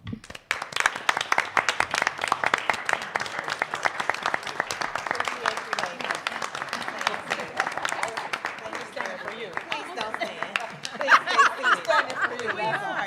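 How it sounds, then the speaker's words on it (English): An audience at a school Board of Education meeting gives a sustained round of applause for the board members, many hands clapping steadily for over ten seconds, easing near the end as chatter and light laughter rise. "Would you join me in a round of applause?"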